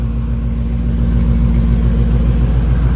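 Ford Mustang GT fitted with new Borla mufflers, rumbling at idle in a steady, loud, deep drone with a pulsing low throb, close to the exhaust.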